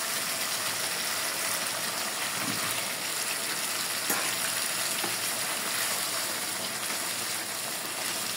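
Pieces of fried potato go into a pot of well-browned mutton curry, giving a steady, close, even sizzle that runs on its own without pause and without any voices.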